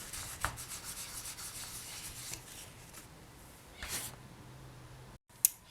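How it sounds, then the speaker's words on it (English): Soft scratchy rubbing strokes of sanding a polymer clay pendant, repeated in short irregular passes with brief louder scrapes, close up and fairly quiet. "So I finished sanding it"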